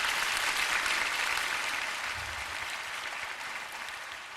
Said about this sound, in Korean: 우리 응원의 박수 한번 보내주시기 바랍니다